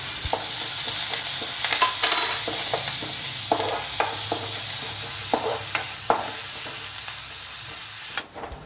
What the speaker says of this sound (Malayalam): ഇളക്കി ഇളക്കി ചെറിയുള്ളി എല്ലാം ഒരു ബ്രൗൺ കളർ ആവണ വരെ ഇളക്കിക്കോളി